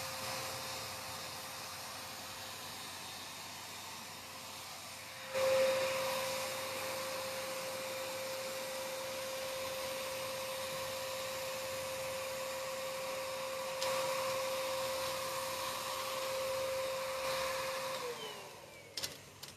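Paint sprayer misting Dixie Belle paint, a steady airy motor hiss with a thin whine that starts abruptly partway in and runs evenly, ending with a short drop-off.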